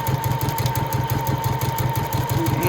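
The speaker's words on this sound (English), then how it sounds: "I'm just doing some kind of random highlight stitching, getting on top of the flower sometimes, coming onto the background fabric." A domestic sewing machine runs steadily at speed during free-motion quilting on a fat-quarter tote bag, its needle hammering in a fast, even mechanical rhythm close up.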